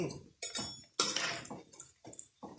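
Rice being turned back and forth in a frying pan with little oil, giving scraping clinks and clatter of utensil on metal in short bursts, with brief sizzle between.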